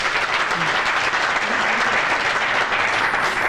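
A studio audience at a Ramzan television transmission claps loudly and steadily, a dense continuous wash of applause for the whole stretch.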